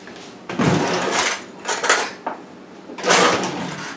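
A breadcrumb mixture with a little milk being stirred in a bowl at home for an air fryer recipe, heard as several bursts of clinking and scraping against the dish with short pauses between them.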